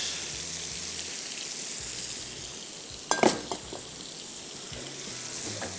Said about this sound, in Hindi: चलिए इसको फ्राई करते जाएंगे